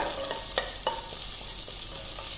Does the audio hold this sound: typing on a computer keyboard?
no